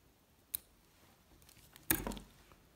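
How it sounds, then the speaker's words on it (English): Scissors trim hackle while a fly is tied, two short close snips about a second and a half apart, the second louder, in a quiet room with no talking. "And trim off the hackle."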